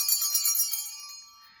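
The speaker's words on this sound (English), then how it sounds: "I call them Easter bells, but they are really called chancel bells." Chancel bells, used at Easter, ring out with a bright, shimmering metallic chime that carries alone and slowly decays into silence.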